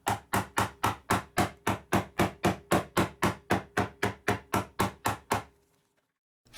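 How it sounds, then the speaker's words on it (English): Hammer knocking hard plastic pieces out of a mold, about twenty sharp, evenly spaced raps in a fast steady rhythm, close and loud, then stopping into silence. "Finally, the hammer got the job done, luckily."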